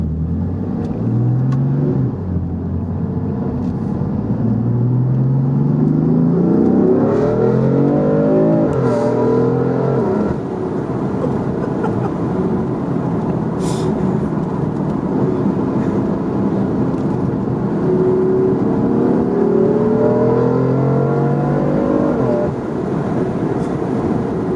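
A powerful rear-wheel-drive BMW F8X M car engine revs repeatedly, its pitch sweeping up and falling back over a steady loud drone, close and sustained with no talk.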